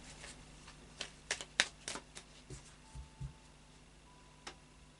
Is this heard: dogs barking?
no